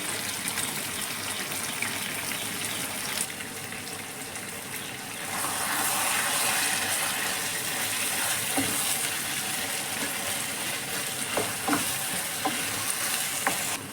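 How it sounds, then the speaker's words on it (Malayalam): Bengali chicken curry cooking uncovered on a high flame, oil bubbling at the edges, makes a continuous close sizzle and bubbling with occasional light spoon clinks. "അതിൻ്റെ സൈഡിൽ നിന്ന് എണ്ണയൊക്കെ തിളച്ച് വരുന്നുണ്ട്"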